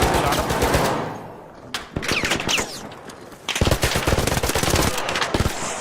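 Rapid automatic gunfire in the video game Marvel Rivals, loud and close, in dense rattling bursts with brief gaps, while players talk over it.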